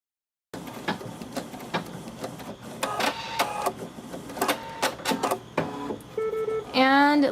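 An embroidery machine stitches an applique onto a cloth diaper, giving close rhythmic mechanical clatter in bursts, with a voice talking over it.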